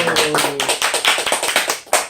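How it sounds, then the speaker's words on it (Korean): A small high-school church group claps in a room, a brisk burst of dense, overlapping hand claps close up with some voices mixed in. "박수!"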